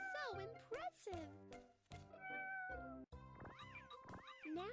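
Cartoon kitten meows in a BabyBus kids' coloring game, a few bright, sing-song cries over cheerful game music with chimes.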